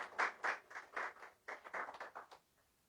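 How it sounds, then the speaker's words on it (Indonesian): A church congregation at a Sunday service claps in a short burst of rhythmic hand claps, faint and distant, that thins out and stops after a few seconds. "tepuk tangan yang meriah bagi Tuhan Yesus"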